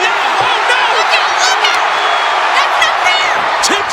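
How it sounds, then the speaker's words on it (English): A wrestling arena crowd at a February 2000 Raw event roars and cheers continuously, with whoops and shouts rising out of a dense wall of noise and a commentator's voice running over it. "The crowd are chanting for Rocky while still popping for everything that happens in the ring."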